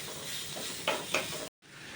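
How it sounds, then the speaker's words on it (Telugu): Sliced onions fry in a pan for a traditional brinjal curry, giving a steady close sizzle with a couple of louder stirring bursts and a brief silent gap near the end. "ఉల్లిపాయలు ఇవన్నీ వేగుతాయండి"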